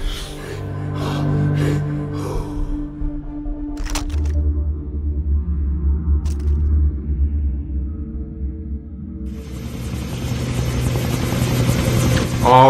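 A helicopter in the video game Far Cry 3 drones with a steady low rotor rumble that swells toward the end, over a few sharp game sounds and brief voices.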